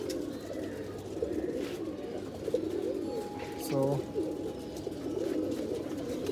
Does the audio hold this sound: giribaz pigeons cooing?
yes